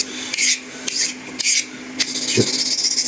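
A steel blade is honed on a Washita whetstone in short rhythmic strokes, each a dry rasping scrape, with about six passes over three seconds, close and clear with no voices.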